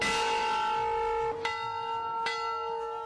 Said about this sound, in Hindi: जहां भक्तों का स्वागत एक बड़ा घंटा करता है